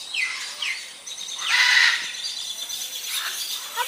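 Small birds in a bird aviary at Vinpearl in Nha Trang, Vietnam chirp and tweet in quick high bright calls, several birds overlapping nearby in bursts with short gaps.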